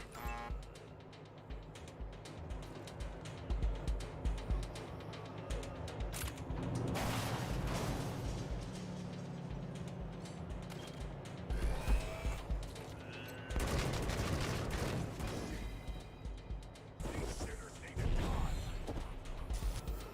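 Turret gunfire and clattering mechanical combat noise in the video game Wasteland 3, with loud bursts of shots at intervals over a constant game backdrop.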